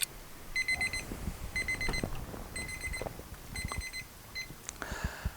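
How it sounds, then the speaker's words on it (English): A baker's kitchen timer goes off with several quick bursts of high, bright beeps separated by short pauses, followed by a brief clatter at the end. "Trusty baker's timers went off"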